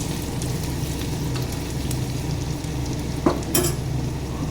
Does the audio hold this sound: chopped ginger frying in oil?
yes